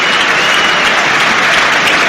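A football stadium crowd at Chelsea v Middlesbrough applauds a substituted Chelsea player leaving the field, a loud, steady wash of clapping that holds evenly throughout with no speech.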